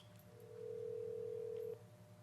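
During a phone call placed from a town select board meeting, a steady telephone dial tone sounds for just over a second, faint and thin over a low room hum.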